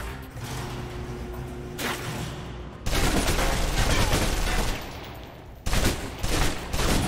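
Submachine gun fire in the video game Alpha Protocol, loud dense automatic bursts in close quarters, one long sustained burst in the middle and a shorter one near the end, with mechanical clatter between them.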